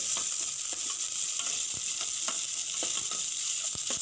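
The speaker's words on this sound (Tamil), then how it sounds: "நம்ம அரிஞ்சு வச்சுருக்கிற ஒரு பெரிய வெங்காயத்தையும் சேர்த்து நல்லா வதக்கிக்கோங்க." A large chopped onion sautéing in oil with curry leaves and red chillies, a constant bright sizzle broken by a series of spoon scrapes and taps against the pan, close and uninterrupted by voices.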